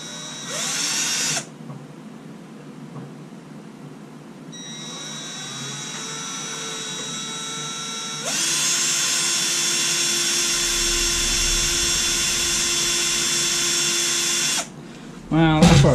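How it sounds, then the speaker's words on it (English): A power drill works on a Jeep TJ during transmission cooler and AC prep, whining in long steady bursts that rise and change pitch, close and loud, with brief pauses between runs and some voices in the background. "Drill it."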